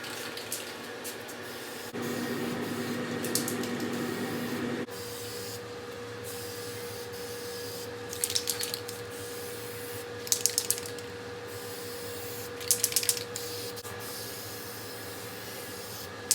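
A second, heavier coat sprays onto a DIY utility trailer camper, making a steady close hiss over a constant machine hum, broken by a few short, sharper spray bursts.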